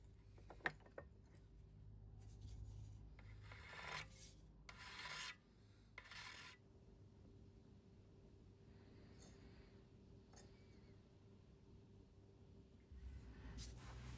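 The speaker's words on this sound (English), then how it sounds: "the edge is rounded using a diamond file" A diamond file rounding the edge of a lathe tool, heard as a few short, close rasping strokes in separate bursts against a quiet background, with a soft clunk near the end.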